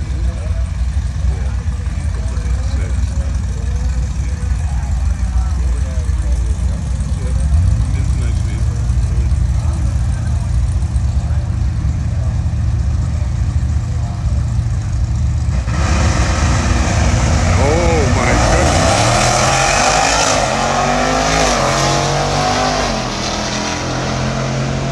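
A Dodge Durango making a drag strip run at a Saturday afternoon drag meet in St Thomas, its engine a loud steady roar that swells and rises in pitch toward the end, with crowd and track noise throughout.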